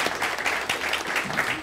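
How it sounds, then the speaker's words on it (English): Brief round of clapping from the audience at a Dayton City Commission candidates forum in a library, a moderate, uneven patter of many hands. "Okay, now a round of applause."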